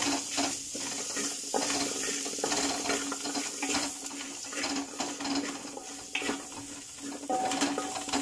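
Mutton curry with slit green chillies is stirred and mixed in a pot, a steady soft scraping and sizzling texture that continues for several seconds without any talk.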